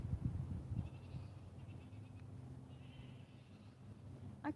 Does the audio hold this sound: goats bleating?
yes